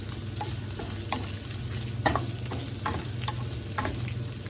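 Steak bites frying in a pan as half a stick of butter melts over them on low heat, a soft steady sizzle with occasional light clinks and scrapes of stirring.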